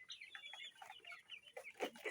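Bahama chickens with feathered legs cluck in short, soft, repeated bursts close by at a poultry seller beside a railway-station market.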